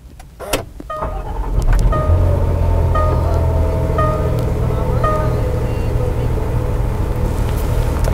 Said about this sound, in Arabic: نعطيكم فكره عن تشغيل السياره